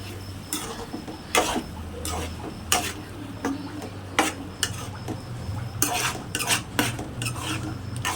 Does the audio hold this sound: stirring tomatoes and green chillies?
yes